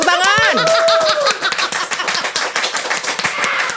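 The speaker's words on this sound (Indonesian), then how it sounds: "Tepuk tangan." A few people clap in a podcast studio, a short burst of close hand claps with laughter and squealing voices at the start and chatter continuing.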